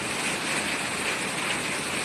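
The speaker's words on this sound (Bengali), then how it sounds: "তো দেখেন কেমন বৃষ্টি করছে" Heavy rain pours down in a steady, dense hiss that stays loud and unbroken throughout, with no voices over it.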